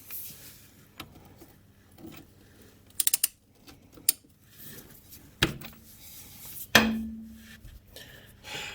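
A wrench works at the rusty drain bolt on the final drive of a Suzuki KingQuad ATV, sharp metallic clicks and clunks arriving in separate bursts with quiet gaps between them, close by.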